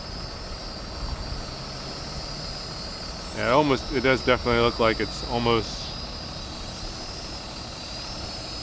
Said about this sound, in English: You can see where the drone is.